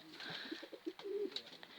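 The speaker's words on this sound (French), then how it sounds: "ici on a la pigeon pan, la madame pigeon pan" A female fantail pigeon sitting on two eggs in a breeding loft gives soft, low cooing notes, a few short coos and one drawn-out call, close by over faint background noise with no talk.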